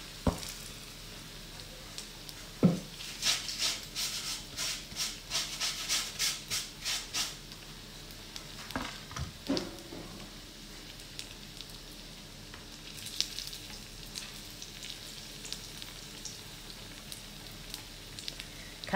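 Food for makis frying in hot oil with a steady faint sizzle, punctuated by a handful of sharp knocks and a rapid run of clattering taps as pieces are turned over, close and quiet without speech.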